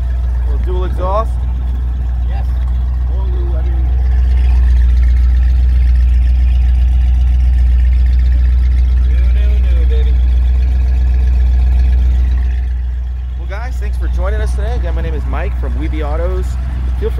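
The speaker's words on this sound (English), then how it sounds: "A little dual exhaust." A 1946 Ford pickup's 351 Windsor V8 idles with a deep, steady rumble through dual exhausts, swelling slightly midway, while people talk nearby.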